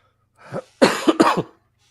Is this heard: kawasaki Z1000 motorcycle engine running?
no